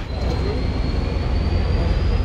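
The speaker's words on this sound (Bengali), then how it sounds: "ট্রেনটি এখান থেকে ছাড়লো 10:54, অর্থাৎ 4 মিনিট লেটে ছাড়লো" A DEMU train pulls out of Siliguri Junction with a continuous rumbling rattle of wheels on rails and a thin, sustained high squeal running over it.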